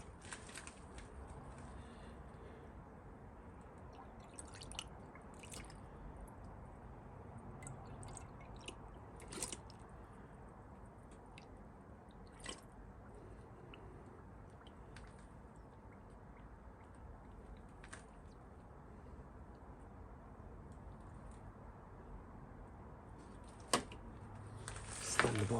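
Transparent antifreeze coolant gurgles through the cooling system of a crashed Triumph motorcycle during a rebuild. The sound is quiet, wet and bubbling, with soft drips and squelches and a few sharper clicks, ending with a louder burst.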